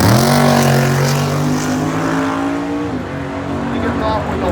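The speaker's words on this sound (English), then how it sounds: "You're about to watch an 8-second all-motor big block Mustang." A big-block, naturally aspirated 1980 Mustang launches on an eight-second drag strip run, its engine note climbing loud and close before a sharp gear-change drop near the three-second mark, then pulling on steadily. An announcer talks over it.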